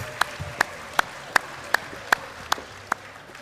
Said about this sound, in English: Let's give everyone that participated today a round of applause